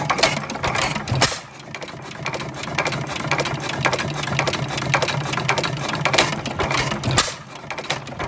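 International Harvester 6 HP Famous stationary engine running without a muffler at about 200 RPM, making loud, sharp exhaust pops at a fast, even rhythm under a continuous mechanical clatter.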